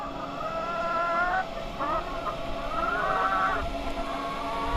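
Free-range chickens in a mobile chicken caravan cluck and murmur in daylight while its doors close up. The birds are heard through a steady wash of background noise that stays fairly level throughout.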